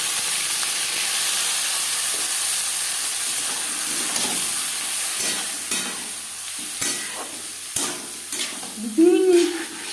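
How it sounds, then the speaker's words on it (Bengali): Masoor lentils sautéing with cumin seeds in a pan for papaya masoor dal, giving a steady close sizzle with scattered scraping stirs and a louder clatter near the end. "ডাল সাঁতলে নেব।"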